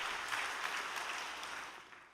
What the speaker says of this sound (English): Let us offer them a great round of applause.